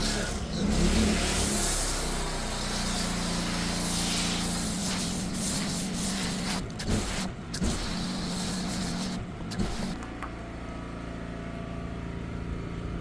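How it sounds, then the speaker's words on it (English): MJJC V3.0 Pro foam cannon spraying thick foam over a car, a loud continuous pressurized hiss with a droning pressure-washer motor beneath, briefly faltering near the end before easing off to a quieter hum. "I'll go ahead and foam down the entire vehicle"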